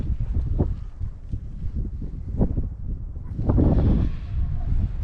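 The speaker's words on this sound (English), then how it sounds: "As you can hear, the wind is still gusting pretty good." Low, rumbling wind buffets the microphone in uneven gusts, swelling louder toward the end, with no voices.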